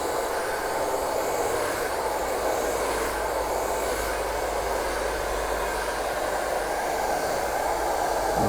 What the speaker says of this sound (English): come in with my hairdryer, cold air, nothing too fast